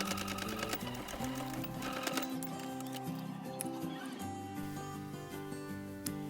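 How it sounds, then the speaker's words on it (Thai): A sewing machine stitches fabric for a face mask, running in a steady continuous whir of rapid needle strokes with a few short pauses and restarts, close and fairly loud. "เช็คความเรียบร้อยเราจะเย็บกดย้ำ ย้ำ เย็บเลยไปย้ำจ้ะ"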